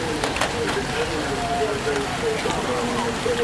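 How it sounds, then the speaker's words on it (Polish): Steady downpour in Łowicz, Poland, patters down with scattered heavy, thick raindrops landing throughout, a constant wet hiss with occasional distinct plops, fairly close. "Pojedyncze grube krople deszczu padają"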